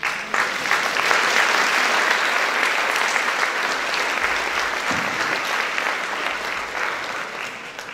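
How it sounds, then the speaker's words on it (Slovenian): Sustained audience applause at a children's choir event, dense clapping from a large crowd that stays loud throughout and fades only a little toward the end. "En aplavz."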